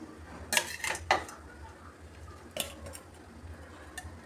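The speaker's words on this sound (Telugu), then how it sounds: "చల్లారిపోయిందండి, మిక్సీ జార్లో వేసుకుంటున్నాను." Cooked ridge gourd being put into a mixer jar: a few quiet, sharp clinks of a spoon against the jar in a quiet kitchen, spaced irregularly.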